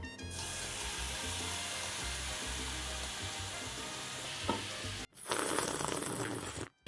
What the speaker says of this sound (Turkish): Kolayı ufaktan döküyoruz